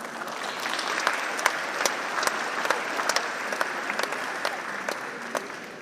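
Students at IIUM applauding during an event with Anwar Ibrahim, a broad, steady wash of clapping from a large crowd in a hall, with sharper individual claps popping out now and then.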